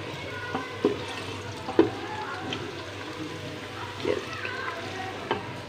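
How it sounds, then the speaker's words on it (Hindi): Onions sizzle in a pan in a home kitchen during a kadu gosht cooking session, a steady low fry broken by a few louder clinks and stirring scrapes. "प्याज फ्राई हो रहा है"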